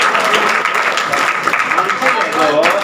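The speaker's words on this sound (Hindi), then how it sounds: "बजाओ ताली।" A crowd of students at an NSS camp in Badawar claps together, a dense, steady burst of applause that fills the room for a few seconds at fairly close range.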